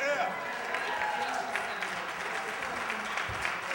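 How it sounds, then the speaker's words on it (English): A conference audience applauds after a speech, steady dense clapping from a crowd filling the hall, with voices mixed in beneath it. "Give Mr. Lawrence Hamm another round of applause."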